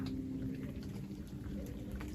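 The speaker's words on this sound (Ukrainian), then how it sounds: "Іде дощ" Soft rain falls outside a house at night, a faint, steady, watery patter with no voices.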